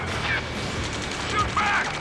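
Continuous rattling gunfire in the combat flight game Ace Combat 7 Skies Unknown, a dense, loud barrage with faint voices and radio chatter underneath.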